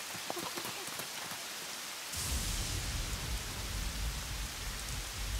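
Heavy rain with thunder: scattered patters and drips suddenly swell into a dense, loud downpour with a deep rumbling roar underneath.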